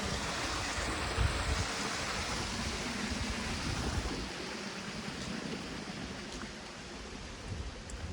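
Mountain stream water flowing on Girnar near the path to a kund, a steady broadband rush that stays even and fairly close, with no talking.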